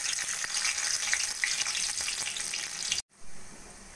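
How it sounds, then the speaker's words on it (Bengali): Chopped garlic and nigella seeds fry in hot oil in a wok with a steady, bright sizzle that fills the clip, then cuts off briefly before resuming more quietly. "কড়াইতে তেল গরম করে দিয়ে দেবো কালো জিরে ফোড়ন,"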